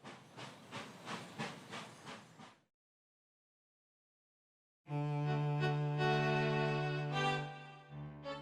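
Nickel Plate 765 steam locomotive: a string of rhythmic, hissing exhaust chuffs, a few seconds of silence, then a long, loud, tonal steam whistle blast that tapers off near the end.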